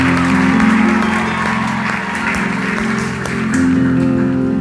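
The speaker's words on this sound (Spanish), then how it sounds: "vamos a dar un aplauso al Señor para honrar a nuestros padres" A church congregation applauds to honor the Lord, a steady wash of clapping from many hands over a sustained musical hum, loud and close for several seconds.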